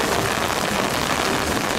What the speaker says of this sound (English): It's no longer a light rain. This is a full-on rain